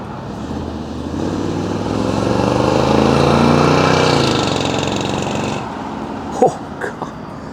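Engine of a 1964 Buick Riviera classic car running loud and close, a steady rumble that swells and holds for several seconds, then drops away, followed by a couple of brief knocks.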